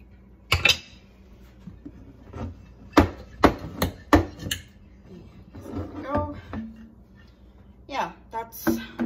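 A kombucha mixture is stirred in a pot, giving a run of loud, irregular knocks and scrapes as the utensil strikes the container, with a voice murmuring between the strikes.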